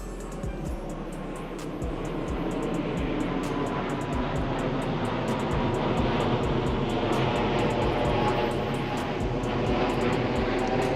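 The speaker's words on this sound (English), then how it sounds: "It's a plane, kind of interrupting the video a little bit" Airplane passing overhead, a steady broad engine roar holding loud and even throughout, with faint clicking noises scattered over it.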